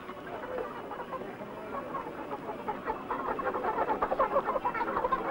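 About twenty hens clucking in a lashed-down cage on the deck of the Irish sailboat Phoenix during a 1976 sailing race: continuous busy clucking and cackling that grows louder and more rhythmic toward the end, with no talking.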